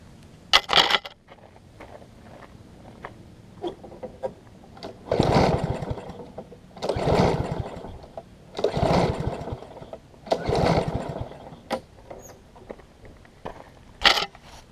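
Husqvarna AWD push mower, with finicky running and possible carburetor trouble, cranked repeatedly: four separate pull-start bursts a second or so long, each rattling briefly with no sustained run, plus sparse clicks and handling noises between.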